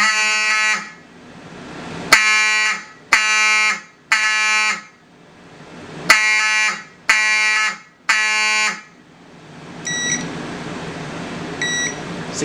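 A fire alarm system under test sounds code 3 on a 7002T unit: loud repeated electronic horn blasts in an even on-off rhythm, about seven pulses, followed by a few faint short beeps.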